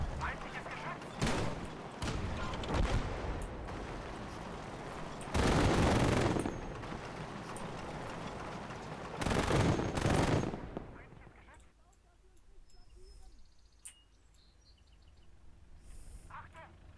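Heavy gunfire erupts in the World War II game Call To Arms: Gates Of Hell, with loud bursts of machine-gun and cannon fire and booming blasts in the first ten seconds, then fading to sparse distant shots and quieter ambience.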